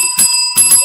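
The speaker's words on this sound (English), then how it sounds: "I got a bell." A small hand bell, like a bicycle bell, rings sharply twice, with bright metallic tones lingering between and after the strikes, close and loud.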